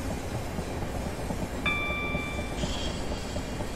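A Class 465 electric train in a Train Simulator game rolls along with a steady rumbling run, and a brief tonal signal sounds partway through over the continuous motor and rail noise.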